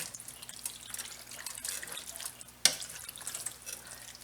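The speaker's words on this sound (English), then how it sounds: "I'm trying to stir it gently. I don't want it falling apart too much." A zucchini, sausage and rice casserole is stirred gently in a pan, giving soft, wet squelching and scraping with one sharper clink near the end, faint and close with no talk.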